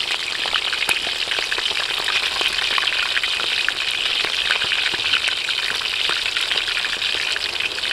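Jumbo prawns fry in hot oil at an outdoor cooking setup, giving a loud, steady, dense sizzle that runs unbroken with no voices.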